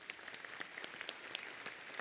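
Audience applause at a Eureka fan convention panel in Phoenix, scattered and fairly faint, with individual claps standing out against a soft crowd wash.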